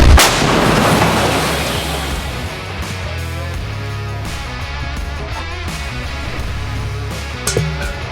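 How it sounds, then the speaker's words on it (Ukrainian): A self-propelled artillery gun fires with a loud boom at the start, then a sustained low rumble and engine drone continue throughout, with a few faint clanks near the end. "Один снаряд вогонь. Гармата!"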